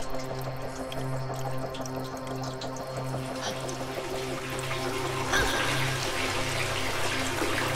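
Water being lowered in Selma and the Wisp, a steady rushing, dripping flow with a low hum underneath, continuous and fairly loud throughout, building slightly toward the end.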